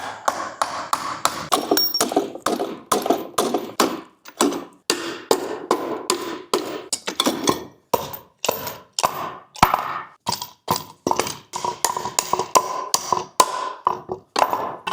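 Rapid, steady hammer blows strike metal again and again, sharp and close, with a few short pauses in the pounding, during a hose reel installation.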